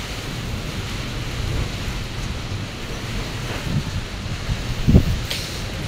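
Heavy typhoon rain pours down in a steady, dense roar mixed with gusting wind, constant throughout, with a brief louder knock or thump near the end. No voices.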